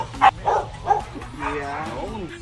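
A dog gives a few short yips and barks close by, mixed with people talking over it at a party.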